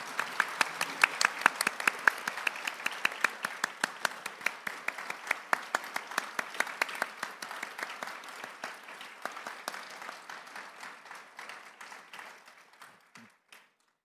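An audience applauds a visually impaired orchestra at a formal Korean court anniversary ceremony after it performs the national anthem. The sustained clapping gradually thins out and fades over roughly fourteen seconds.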